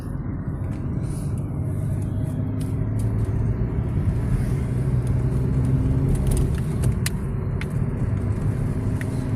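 Steady road traffic rolling past on a street near army quarters outside a market, a continuous loud low rumble of cars and buses with faint scattered higher clinks, no talking.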